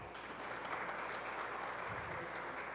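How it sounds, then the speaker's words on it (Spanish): Steady applause from an audience, clapping continuously at an even level throughout. "Un fuerte aplauso para él."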